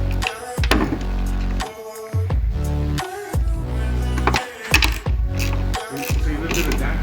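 Bolts on a 2007 Volvo S60 strut assembly being tightened by hand with a ratchet, several bursts of close, loud clicking pawl sounds separated by short pauses.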